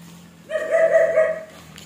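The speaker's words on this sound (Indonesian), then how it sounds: "Ada suaranya guguk." A single sustained dog bark or yelp, close and fairly loud, rising then holding about a second before fading, over a quiet background.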